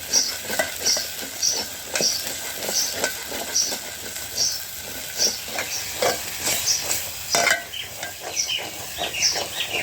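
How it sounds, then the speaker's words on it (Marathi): Oil heating in a pan over a wood-fired clay stove, spluttering with steady crackling pops and a constant sizzle, close and fairly loud, with scattered sharper bursts and no one talking. "चला तेल फुटेपर्यंत घेते मस्त"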